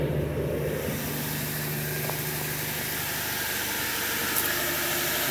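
AMC Eagle car engine running at a steady idle, a continuous low rumble with broad noise, heard close and unbroken with no talking.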